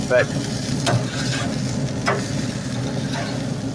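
Meatball burgers sizzle steadily on a pellet grill as they are flipped, a soft, constant crackle with a few brief scrapes from the spatula.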